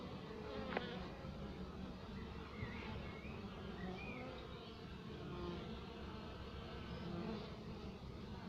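Honeybees swarm around a small, weak nucleus hive, their dense, steady buzzing filling the air with individual insects droning past up close.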